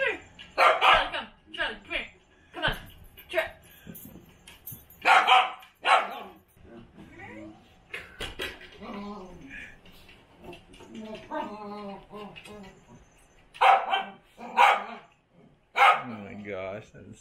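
A dog barks in repeated loud, close bursts, some in quick pairs, with yips and whimpers between them, while people talk nearby.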